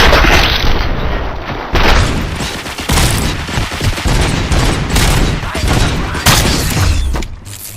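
Heavy gunfire and booms in the video game RoboCop: Rogue City, loud and continuous with dense automatic bursts and repeated heavy impacts filling the whole stretch, no talk over it.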